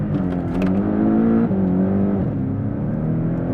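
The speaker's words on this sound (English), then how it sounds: "you want to give it some revs, launch control activated" A Porsche 718 Cayman GTS 2.5 turbo engine revs loudly and holds high under launch control, then surges as the car launches, the steady roar shifting pitch as it accelerates hard.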